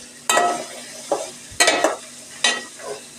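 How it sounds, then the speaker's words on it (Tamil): Capsicum fried rice is stirred in a hot pan, giving four or five loud, close scraping strokes over a steady background sizzle, with no talking. "இப்போ மிக்ஸ் பண்ணிக்கணும்."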